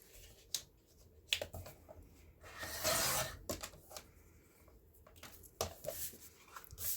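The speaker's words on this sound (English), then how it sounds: "We're going to trim away that 1/2 inch flap that we made." A file folder journal cover being trimmed, with small taps and handling noises followed by a longer rough cutting and scraping stretch through the paper flap, all quiet and close.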